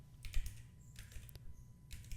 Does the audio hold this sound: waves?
no